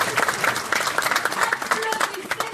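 An audience breaks into applause, dense clapping filling the room for a few seconds, with a voice faintly audible underneath.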